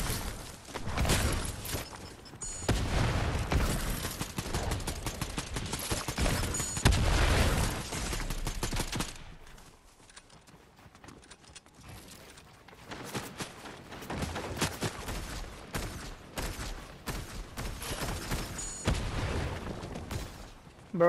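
Gunfire in a Fortnite match: bursts of loud shots and booms in clusters, a quieter lull near the middle, then more rapid firing toward the end.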